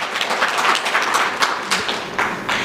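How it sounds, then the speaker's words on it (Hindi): Audience applause at a political speech rally in India, a dense wash of many hands clapping steadily and fairly loud for the whole stretch, with a few sharper individual claps standing out. "एक बार जोरदार तालियां बजाकर स्वागत है"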